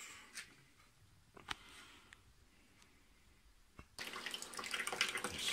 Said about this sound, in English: Slightly add more water